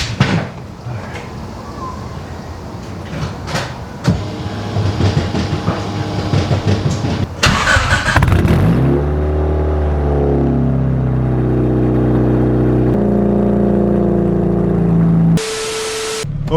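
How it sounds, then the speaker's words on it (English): A turbocharged Honda Civic EG engine cold-starts after some clatter and handling noise, settling into a loud, steady idle with rising and falling revs and a brief flare near the end. "Let's get a cold start."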